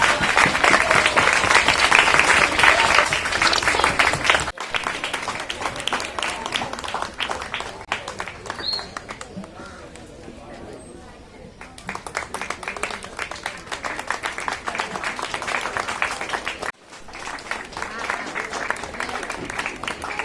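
Loud audience applause at a school award ceremony, sustained clapping from a crowd that fades, pauses briefly, then swells again and continues, close and filling the room with no talk over it.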